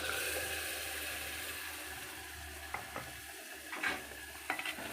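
Onion and tomato sautéing in a pan for a fish curry, giving a soft, steady sizzle. Several sharp utensil scrapes and clicks come near the end, close but fairly quiet, with no speech.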